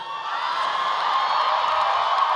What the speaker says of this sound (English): Beetle and Grimm's has never had that loud of a cheer ever.